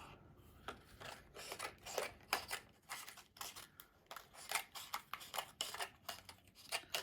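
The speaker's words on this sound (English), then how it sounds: "let me just cut this a wee bit thinner" Scissors snip through material to trim a strip thinner while covering a helmet, a steady series of close, crisp cuts in a quick uneven rhythm with no talking.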